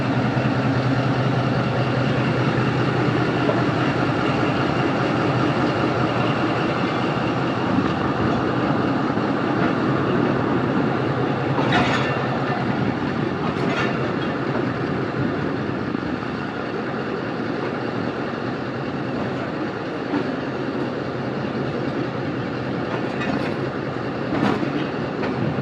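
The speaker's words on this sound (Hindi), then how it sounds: "चुनिंदा के रेलवे स्टेशन से सियालकोट एक्सप्रेस मूव करना शुरू हो गई है।" The Sialkot Express passenger train rolls out of a railway station on the Lahore to Sialkot line, with a steady loud rumble and clatter of wheels on the rails and a few sharp squeals over the continuous roar.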